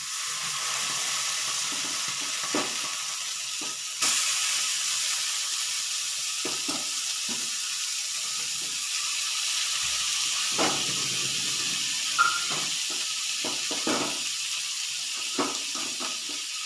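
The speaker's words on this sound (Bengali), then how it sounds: "এই ফ্রাই প্যানে মাংসগুলো একটু একটু করে দিয়ে ভেজে নেব" Chicken pieces frying in a pan without spices, a steady close sizzle and hiss with occasional clinks and stirring sounds, no talking.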